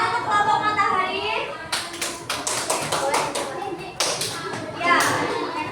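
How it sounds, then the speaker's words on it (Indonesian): Classroom applause for a student group, a burst of many small hands clapping in uneven rhythm, close and fairly loud, mixed with children's voices and a teacher speaking. "Beri tepuk tangan untuk kelompok matahari."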